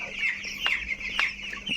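Chickens clucking at night on a poultry farm, a steady murmur of soft clucks with a few sharper calls standing out, close and alone with no talk.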